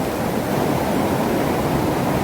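A flooded mountain stream near Nangal, Punjab, swollen by heavy rain, roars past in a dense, unbroken rush of water, loud and close throughout, no talking.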